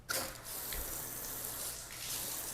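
Water hisses steadily from a sprayer onto a car panel during a water-wax durability test, close and continuous, with brief shifts in the spray but no talking.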